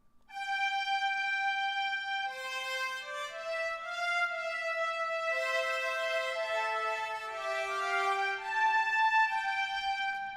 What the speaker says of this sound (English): And then just the sforzando trumpet sounds like this.